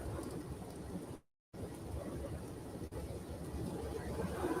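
Heavy rain falls during an Indiana freezing-rain event in February, a steady dense hiss with low rumbling underneath that cuts out briefly before resuming, loud and continuous.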